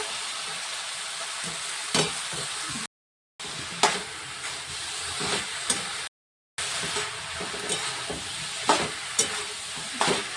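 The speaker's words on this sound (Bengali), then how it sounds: "ভালো করে কষে নিতে হবে তেল বেরিয়ে যাচ্ছে" Katla fish head masala with ginger paste fries in oil in a pan for a cabbage curry, a steady close sizzle broken by scraping stirs and two brief silent cuts.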